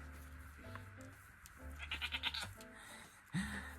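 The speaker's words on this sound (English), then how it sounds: "The only time you'll ever hear this goat make a sound." A mother goat bleats softly to her young kids, a short quavering run of pulses in the middle of a quiet farm scene, faint and close.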